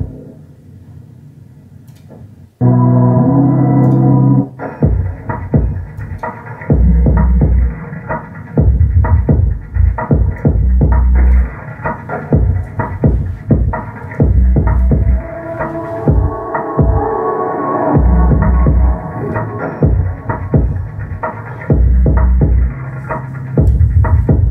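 A homemade dual-membrane, high-excursion planar magnetic bass driver plays loud, deep throbbing bass pulses in an uneven rhythm, with buzzing rattles riding on the low notes, after a short quiet hum at the start.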